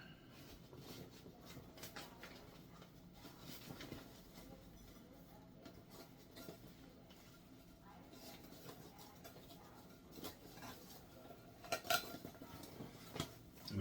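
A metal camping pot set clinks and clatters as it is handled, with scattered light knocks and rattles of nested cookware close by, quiet overall, alongside soft talking.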